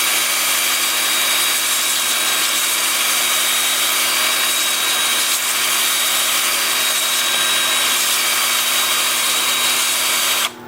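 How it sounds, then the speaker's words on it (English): Drill-driven sander pressed against a wooden bowl spinning forward on a lathe, a loud continuous whirring grind with a steady motor hum, running unbroken until it cuts off at the very end. "Drill going forward, lathe going forward."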